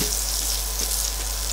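Butter foaming and sizzling in a frying pan, a dense, steady crackle close by with a low hum beneath it.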